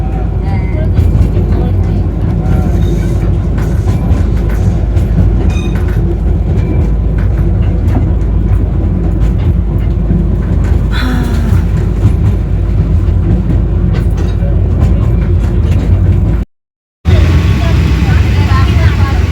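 The Darjeeling toy train rumbles along the rails near Siliguri Junction with a steady, loud roar and rhythmic clatter, briefly cutting out near the end.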